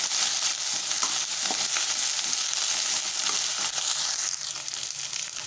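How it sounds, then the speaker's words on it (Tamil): Steady sizzling of eggplant sautéing in a frying pan for kara kulambu, with occasional stirring scrapes and crackles running throughout at an even, fairly loud level. "கத்திரிக்காய் நல்லா வதங்கணும்."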